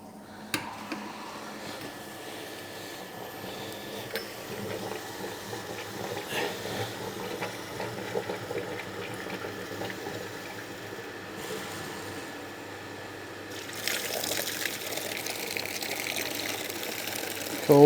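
Hot wort draining from a home brewing system into a bucket during a best bitter brew day, a steady low gushing and trickling flow that runs for many seconds and grows brighter and splashier near the end.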